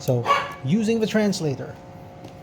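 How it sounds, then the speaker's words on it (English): A pet dog barks and whines in the background with yipping, wavering cries while a person talks over it. "you can hear my dog barking in the background"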